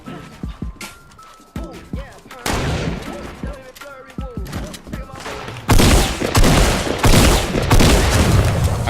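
Video game gunfight with dense bursts of rapid gunfire, sharp shots and booms coming in clusters that grow louder and more continuous toward the end, with voices talking in between.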